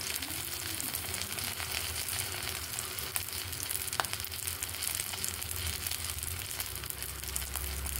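Dried milkfish (daing na bangus) frying in a shallow pan of oil, giving a steady, close sizzle and crackle with a few sharper pops, with no talking.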